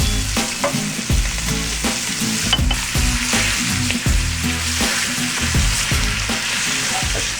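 Steak coated in a pepper rub fries in butter over low heat, giving a steady, close sizzle that runs unbroken throughout with soft crackling and no voices.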